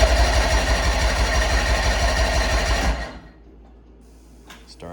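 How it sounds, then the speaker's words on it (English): The outboard motor of a 1962 AlumaCraft boat cranks on its electric starter with a loud, rapid, steady churning for about three seconds, then stops and leaves near silence with a faint click. "Starter works, engine turns over."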